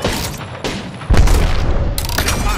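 An Arc Star grenade explodes in Apex Legends, a loud booming blast landing about a second in with a rumbling tail, surrounded by sharp crackling impacts and gunfire in a busy firefight.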